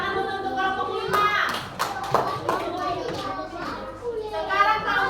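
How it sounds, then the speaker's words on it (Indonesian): Children in a classroom clap for group 5, with a few quick claps mixed into loud, overlapping kids' chatter and shouting nearby. "Oke, tepuk tangan dulu untuk kelompok 5."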